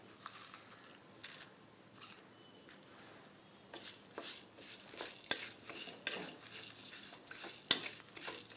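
Pepper, cumin and curry leaves dry-roasting in a pan without oil, with scattered scraping and stirring strokes and light crackle that grow busier and louder partway through, plus a couple of sharp metallic clicks.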